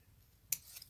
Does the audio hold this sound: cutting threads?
yes